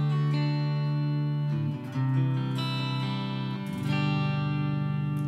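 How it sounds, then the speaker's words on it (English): Electric guitar run through the BIAS FX 2 Acoustic Like preset, chords ringing out with a sustained, shimmering tone and a couple of chord changes, close and fairly full, with no voices. "here's the sound of the Acoustic Like,"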